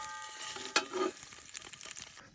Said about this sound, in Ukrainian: Для початку обжарюємо сало. Наш казан на 12 літрів.